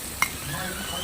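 Cauliflower pakoras frying in oil over low heat give a steady soft sizzle throughout, with one brief stirring clatter near the start.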